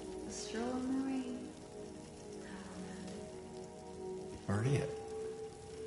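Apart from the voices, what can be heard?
rain in the video game Silent Hill 2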